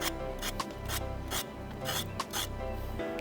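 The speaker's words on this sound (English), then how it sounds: "Good people, just scrape them off." A red snapper is scaled by hand with a scraper, producing repeated rasping strokes in an uneven rhythm, close and fairly quiet, with no talk over them.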